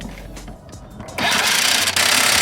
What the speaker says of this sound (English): get your impact gun in the socket, 32mm